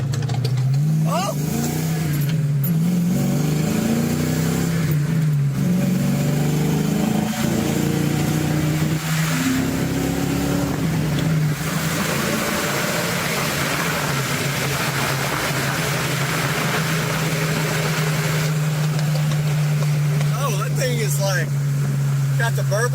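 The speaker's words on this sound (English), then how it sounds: "BMW with the burble tune" A BMW car fitted with a burble tune revs, its engine note rising and falling with popping backfires, heard loud and close while people talk and exclaim over it.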